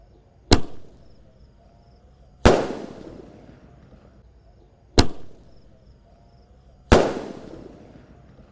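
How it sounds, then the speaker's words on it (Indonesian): Roman candle fireworks fired from a bazooka-style launcher, four sharp, loud bangs spaced about two seconds apart, each with a short fading tail, no talking. "Pelontar Basoka Roman Candle 1 tor. Siap meluncur."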